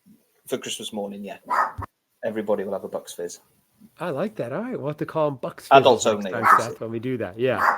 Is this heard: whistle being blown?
no